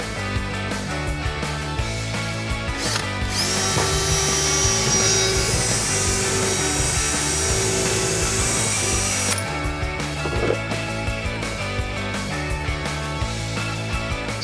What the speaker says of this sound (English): you're drilling a hole in your van, you always want to make sure that you drill a test hole first